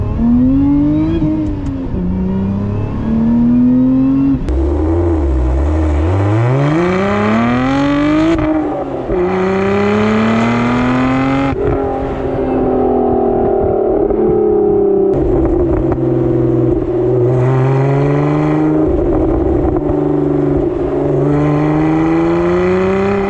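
A Lotus Emira pulls away from a standing start, its rear-mounted engine loud and close, rising through revs in several sweeping climbs with gear-change dips, continuous for over twenty seconds.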